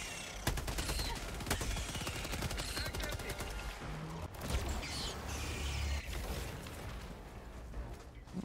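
Rapid automatic gunfire rattles in dense bursts during Helldivers 2 combat, with scattered pops, mechanical clicks and a faint voice mixed into the busy battle noise.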